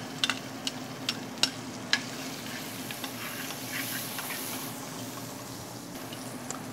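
Onions fry in about two tablespoons of olive oil, a soft, fairly quiet sizzle that holds steady, with a few sharp ticks and pops early on and no one speaking.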